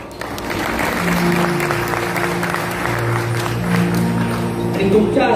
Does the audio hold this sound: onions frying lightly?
no